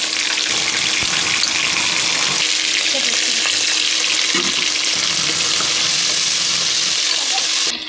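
Browned onions with tomato, ginger paste and spices fry for chicken biryani, giving a loud, continuous close sizzle with faint stirring throughout.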